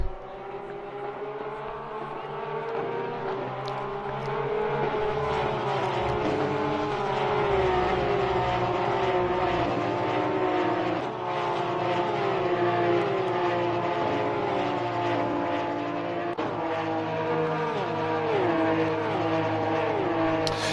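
A pack of Porsche 991 race cars running at Monza, engine notes rising and falling through gear changes as the cars stream past, loud and continuous throughout.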